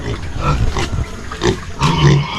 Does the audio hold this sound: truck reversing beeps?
no